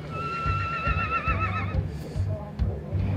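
A horse at the Zuidlaardermarkt horse fair gives a loud, wavering whinny close by, then hooves clop and market chatter carry on around it, with voices in the background.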